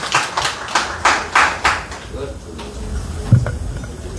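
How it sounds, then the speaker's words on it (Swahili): An audience claps together in a steady rhythm, about six loud, evenly spaced claps over two seconds, then the clapping fades into quieter room noise and a few stray knocks. "Tupige makofi mazuri."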